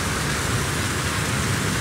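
Heavy continuous rain falling in Manila near Taft Avenue, a dense steady hiss of downpour filling the whole span with no pauses and no voices.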